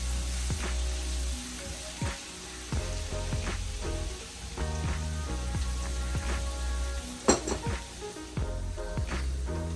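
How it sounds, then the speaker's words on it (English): Fresh chopped garlic sizzles and fries in browned butter in a pan, with a steady crackling hiss. Sharp pops and utensil scrapes from stirring recur throughout, close and fairly quiet. "And right here I'm adding in my fresh chopped garlic."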